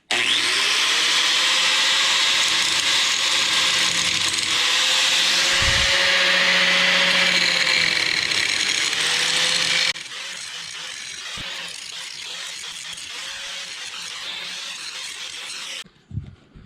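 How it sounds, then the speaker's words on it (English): A grinding disc working on the trailer axle of a 1940s Chevy trailer being restored, a loud sustained whine with slight pitch wavering for about ten seconds, then softer lighter grinding before cutting off near the end, with no speech. "I'm going to try the grinding disc here and see what we can do there."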